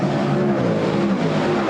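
Dirt modified race cars roar around a fairgrounds speedway during the Super DIRT Week 300, a loud continuous blend of engines at full throttle with shifting pitch as cars sweep past.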